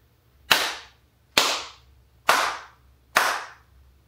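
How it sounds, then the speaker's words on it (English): Four sharp hand claps, evenly spaced about a second apart, each followed by a short decaying ring in a room fitted with acoustic absorption panels and scatter plates; close and loud with no talking. "starting with the audible clap test"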